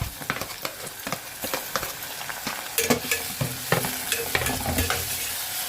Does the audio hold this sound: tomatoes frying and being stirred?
yes